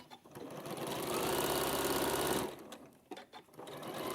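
A sewing machine runs a steady, loud whirring stitch along quilt seams for about two seconds, then stops, leaving small handling clicks before starting up again briefly.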